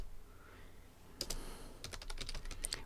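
Computer keyboard typing in a quiet room, starting after a silent second with a short burst of keystrokes, a pause, then a second quicker run of clicks, faint and close.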